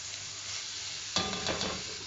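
Onions, shallots and garlic sautéing in a saucepan, a soft steady sizzle with a sudden burst of louder frying and stirring scrapes partway through, close and with no voices.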